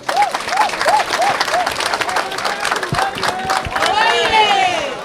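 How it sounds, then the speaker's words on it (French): A large crowd at a political rally gives sustained, loud applause with cheering, dense clapping, and a few whistles rising through it. "Applaudissez très fort l'initiative."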